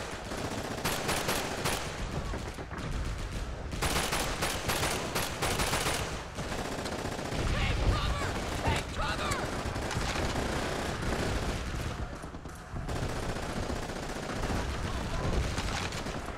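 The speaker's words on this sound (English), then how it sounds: "You set up an MG42." MG42 machine gun firing in the video game Call of Duty: Big Red One, loud dense bursts of rapid automatic fire with short gaps between them, mixed with other battlefield gunfire, continuing throughout.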